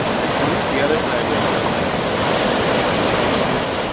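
A waterfall at Pond Falls on the Missinaibi River roars in a steady, loud, broadband rush of falling water with no pauses, close and unbroken for the whole stretch.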